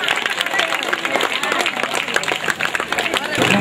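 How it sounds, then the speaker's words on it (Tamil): Audience applause and cheering for prize winners at a DYFI Pongal games festival, a dense steady patter of many hands clapping with crowd noise throughout, fairly loud and continuous. "எல்லாரும் அவங்களுக்கு என்கரேஜ் பண்ற மாதிரி கொஞ்சம் கைத்தட்டி அவங்களுக்கு ஆரவாரம் கொடுக்கலாம்"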